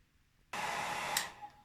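A hair dryer switches on abruptly and blows with a steady whooshing hum at moderate volume, with a brief brighter burst partway through and no talk.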